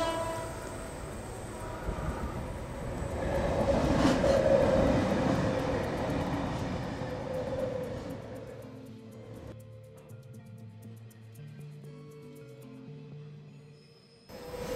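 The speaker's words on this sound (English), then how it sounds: "For a line that doesn't have a great deal of trains, there's certainly a great deal of trains coming through." A Sydney train passes close by, its loud rumble and rail noise swelling to a peak midway before fading into a quieter, steady hum with some tonal whine near the end.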